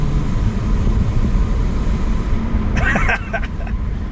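Steady, loud engine drone from a 2014 Ford Escape held at moderate revs, not floored, with a brief higher-pitched scrape or squeal toward the end.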